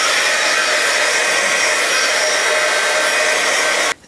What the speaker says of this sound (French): si je me sers donc de ce heat gun pour sécher, ça va faire accélérer le temps de séchage